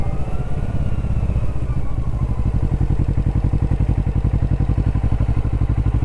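Kawasaki Vulcan S motorcycle engine pulsing steadily while riding, a close, loud, low throbbing that settles into a fast even thump as it gets under way.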